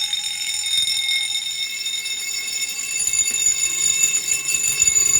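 A fire alarm bell rings continuously, a steady high metallic tone with bright overtones, sounding at New Year during a staged alarm soundoff, moderately loud and unbroken, with faint background rustle.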